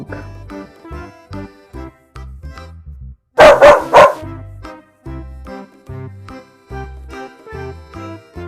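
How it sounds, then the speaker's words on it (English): A dog gives a quick burst of three or four sharp barks partway through, loud and close, set against soft repeated knocking sounds before and after. "Dog."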